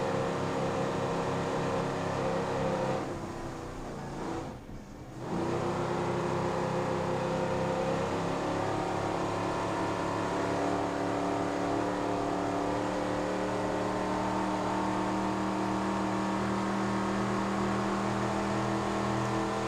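Racing powerboats accelerating out of a turn in an offshore race, a loud sustained engine roar with harmonic drone that briefly dips, then surges back and holds steady.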